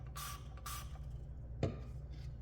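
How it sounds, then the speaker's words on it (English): Two quick hisses of Bath and Body Works body mist spray into a bottle, short airy bursts close to the mic over a low steady hum, followed by a faint tap. "I'm just going to spray it inside the bottle"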